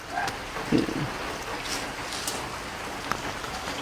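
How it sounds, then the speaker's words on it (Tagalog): Rain falling steadily outdoors with soft pattering drops on surfaces, a faint, even background wash without talk. "Tingnan nyo kasi maulan."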